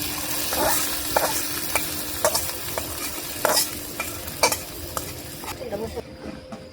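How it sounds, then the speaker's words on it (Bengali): A fried chilli and garlic tempering goes into a pot of khichuri with a close, continuous sizzle. Several sharp stirring and scraping knocks cut through at irregular intervals. "আমার মরিচ রসুন ভাজা হয়ে গেছে, এখন ঢেলে দিব খিচুড়িতে"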